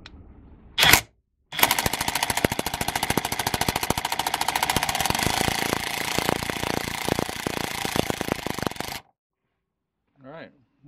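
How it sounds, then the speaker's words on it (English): An impact wrench rattles hard and continuously for about seven seconds on a 15 mm steering wheel bolt of a Jeep, loud and close in a workshop, with brief trigger blips before and a voice faintly after. "I'll go ahead and put the impact on it"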